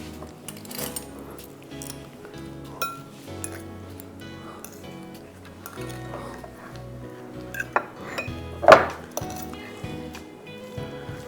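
Chicken marinade is mixed in a bowl, giving wet squishing and repeated clinks of a spoon against the dish, close and intermittent, with one sharper clank near the end.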